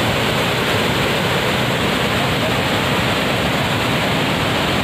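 Dikrutpi waterfall at Balughat, Paklongkam, Karbi Anglong, a steady broadband roar of falling water, close and loud, continuous for the whole stretch with no voices.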